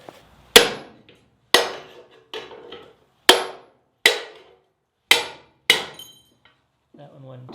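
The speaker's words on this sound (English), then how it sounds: "if you do it just right, you'll be able to knock that off with the hammer afterwards" Hammer knocking a panel loose at plasma-cut spot welds on a vehicle unibody, seven sharp metallic strikes spaced about a second apart, each ringing briefly and decaying, loud and close, followed by a faint clatter.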